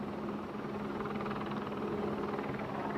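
A news helicopter hovers over Ford Field during a police officer's visitation, its steady, even rotor-and-engine drone filling the air throughout, with no voices.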